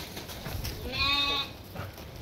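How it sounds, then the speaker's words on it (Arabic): A single bleat from a flock of sheep, ewes with a ram, heard once at moderate distance over a quiet outdoor background. "18 نعجه وكبش"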